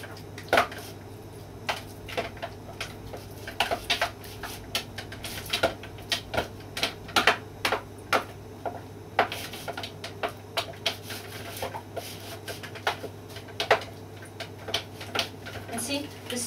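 A spoon stirs a Polish fruit cake batter with mincemeat in a bowl, making repeated close scraping clicks and taps in an uneven rhythm over a faint background hum.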